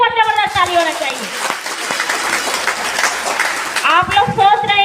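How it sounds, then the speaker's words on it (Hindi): An audience claps in a burst between stretches of someone speaking into a microphone, the dense applause rising in the middle and dropping away as her talk resumes. "हमें हमारे रोशन भैया के लिए बहुत जबरदस्त ताली होना चाहिए"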